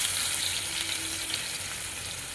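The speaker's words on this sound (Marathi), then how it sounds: "त्यामध्ये 2 मोठे चमचे तेल घेतलेलं आहे, थोडीशी मोहरी घालून घ्यायची, थोडासा हिंग घालून घ्यायचा आणि एकदम बारीक कापलेला कांदा घालून घ्यायचा आहे" Mustard seeds, asafoetida and finely chopped onion fry in a couple of spoonfuls of hot oil for a traditional Vidarbha golepani, giving a steady, close, unbroken sizzle with no voices.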